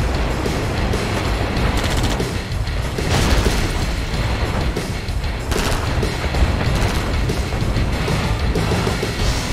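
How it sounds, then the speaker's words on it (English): Airstrike explosions in the video game Red Alert 2 rumble and crack continuously at a loud, steady level, with heavier booming surges around the third and sixth seconds amid overlapping bursts. "Airstrike confirmed."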